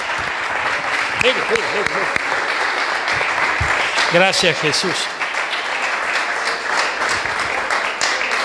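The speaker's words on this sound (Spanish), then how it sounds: "Dale un fuerte aplauso a Jesús" Church audience applauds in a steady, full clatter of many hands, while voices call out and speak over the clapping at moments.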